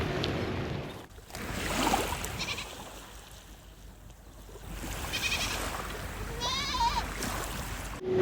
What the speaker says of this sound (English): The goats over there, they're yapping.